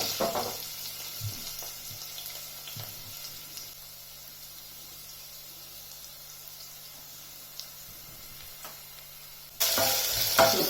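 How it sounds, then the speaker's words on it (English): Potatoes frying in oil in a pan for vegetable pulao, a soft steady sizzle with occasional stirring clinks, growing much louder near the end. "Okay, so these potatoes are now kind of getting fried."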